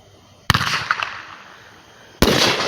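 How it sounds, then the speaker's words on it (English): Fourth of July fireworks bursting outdoors: two loud, sharp explosions about two seconds apart, each followed by crackling, sizzling sparkle that fades, set against quiet background. "Look at those fireworks!"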